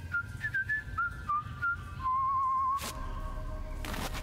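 Whistling in the video game Trüberbrook: a clear melodic tune of short sliding notes, then a longer held note, heard alone over a low background hum, followed by a brief burst of noise.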